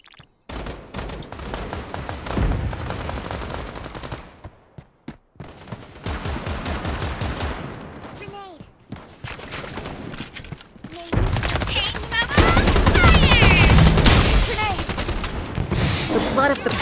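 Automatic gunfire in the Strinova 5v5 shooter, rapid bursts crackling in several clusters with short gaps, loud and close, with game voice lines and effects mixed in.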